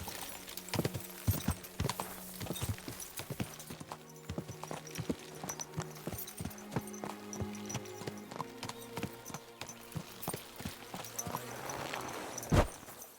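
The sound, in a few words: horse walking, hooves clip-clopping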